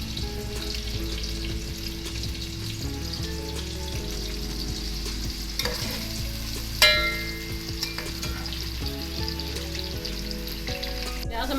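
Onions sizzle steadily in a pan while being fried for ridge gourd and chana dal sabzi, and a spoon stirs and scrapes them now and then. The sizzling is close and continuous, with no talking.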